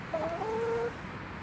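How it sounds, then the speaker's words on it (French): Small hens clucking near a garden shed under construction, a couple of short rising tonal calls over faint outdoor background, close and moderately loud, no talking. "petites poules qui sont là"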